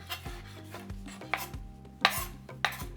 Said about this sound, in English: Let's do some cilantro. Let's just run our knife through that.